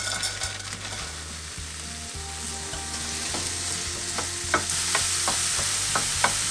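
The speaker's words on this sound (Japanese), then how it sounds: "フライパンを温めたら油を敷いて冷凍刻み玉ねぎを炒めましょう。" Frozen chopped onions stir-fry in an oiled frying pan, a steady loud sizzle with repeated spatula scrapes and clicks against the pan, close and without speech.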